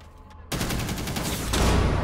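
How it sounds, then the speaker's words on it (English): Rapid gunfire from an 80-round magazine weapon in an esports video game match, bursting in abruptly after quiet and growing louder near the end, a dense, close rattle. "that 80-round mag on that Ying is so hard to go up against."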